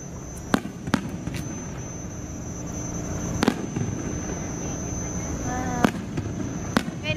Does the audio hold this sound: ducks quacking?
no